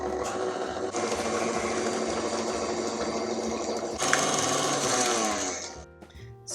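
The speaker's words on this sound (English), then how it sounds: "Just beat that up until it's nice and fluffy." An electric mixer beats cake batter with vanilla and an egg, a loud, steady whirring drone that holds for several seconds, surges near the end, then cuts off abruptly.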